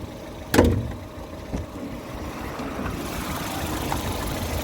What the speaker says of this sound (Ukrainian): Зараз відкриємо, покажемо як працює двигун.